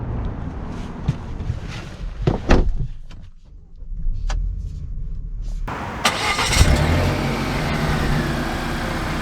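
A 2022 Volvo XC90 T6 engine cranks and catches, settling into a steady idle after a few clunks and clicks nearby.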